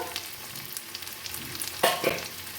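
Spices (salt, turmeric, chili powder, cumin powder) sizzle with a little water for a bitter gourd dish, a steady close frying hiss with a couple of louder stirring scrapes near the end.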